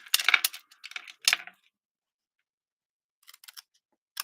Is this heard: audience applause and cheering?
no